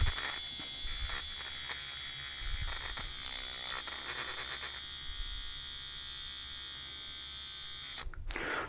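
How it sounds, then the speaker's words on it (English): A small battery-powered electric whisk mixing FlavorsExpress flavor concentrate, giving a continuous high-pitched motor buzz with small shifts in tone as it runs, then cutting off briefly near the end before starting again. "We'll give that a whisk."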